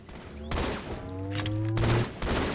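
Rapid gunfire rattles in bursts as players shoot an opponent during a Team Doubles match of Halo 2: Anniversary on the map Oracle, loud and close, with shots layered over one another.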